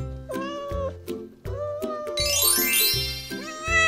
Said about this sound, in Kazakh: Мысық үй жануары.